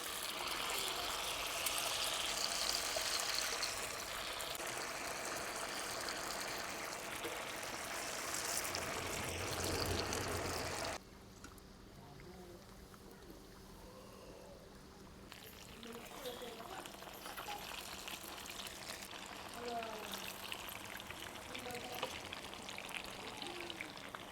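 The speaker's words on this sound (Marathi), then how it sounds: "तेल गरम झालंय आता आपण भट्ट्या तळून घेऊ" Dal batti dough balls fry in hot oil, a steady rain-like crackle and hiss that runs throughout and drops in level partway through before picking up again, with a voice speaking faintly over it.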